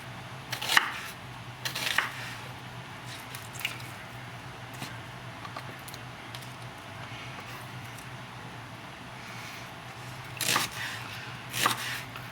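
A knife slices through an onion lengthwise on a cutting board at home, giving a few scattered crisp cuts and squishy crunches, the loudest bunched near the start and end, over a steady low hum with quiet gaps between.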